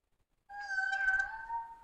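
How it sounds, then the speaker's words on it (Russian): A single cat meow comes from a video game: a clear, fairly quiet, high-pitched call that starts suddenly and holds briefly before trailing off, with no speech. "И мило мяукает. Как же это мило."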